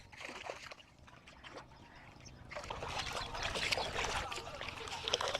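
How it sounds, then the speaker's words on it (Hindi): Small toy tractor in a pond, with soft water splashes and sloshing, quiet at first then busier and louder in the second half, with faint voices in the background. "ये साला छोटा सा खिलौना लाया और तालाब में डुबा दिया"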